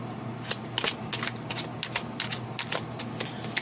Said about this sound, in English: Let's pull some angel healing cards